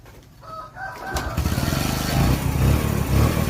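A motorcycle engine runs without a battery, starting up and settling into a loud, steady, rhythmic idle that sounds close.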